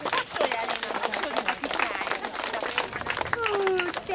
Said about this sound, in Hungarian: Nagy tapsot kérek meg itt.